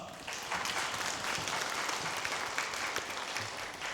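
A church congregation applauds the praise team after worship, a sustained burst of clapping from many hands that fills the room evenly with no talking over it.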